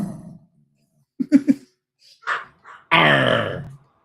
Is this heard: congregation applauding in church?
no